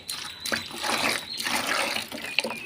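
Water pours and trickles into a fish container, a continuous close splashing gush with brief shifts in flow and no talking.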